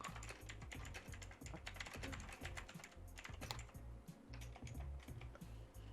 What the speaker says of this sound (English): I was typing a whole message out and everything.